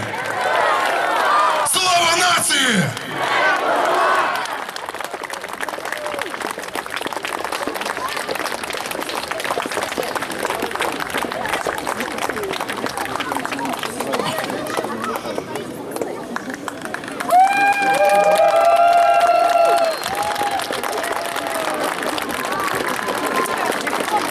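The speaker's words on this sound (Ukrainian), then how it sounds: "Приважаємо оплесками наших молодих козаків!" Crowd claps and cheers loudly to greet young Cossack combat hopak performers, sustained applause with whoops and chatter while an announcer's voice carries over it.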